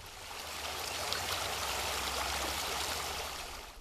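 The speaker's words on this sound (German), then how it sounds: "durch die Felsenschlucht plätschert dann der Bach." The Moosalb brook babbles through a rocky gorge in the Karlstal, a steady, close, full rush of splashing water that fills the whole stretch without any voices.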